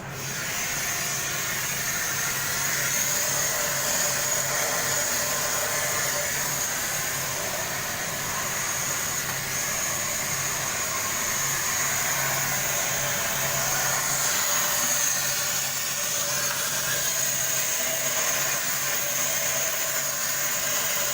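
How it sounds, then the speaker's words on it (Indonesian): Steady, loud vacuum cleaner hiss running nonstop while the top and bottom chase of a molding machine mold are cleaned with a vacuum and brush, with no talk. "membersihkan top chase dan bottom chase menggunakan vakum dan brush"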